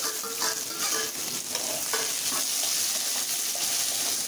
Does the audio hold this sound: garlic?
yes